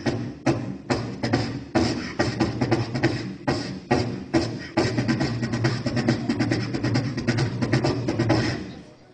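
Vocal beatboxing imitating a kick drum, a steady rhythmic pattern of punchy low-end vocal hits repeated close to the mic for about nine seconds, with no talking.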